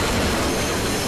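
A train in the video game Crysis 3 rolls along with steady, loud clattering wheel noise and a faint metallic squeal, dense and continuous throughout, with no voices.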